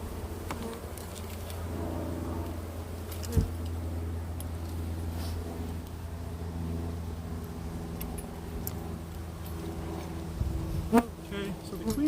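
Honey bees buzz steadily around a mini urban beehive during an inspection, a close droning hum with occasional clicks and knocks of equipment being handled.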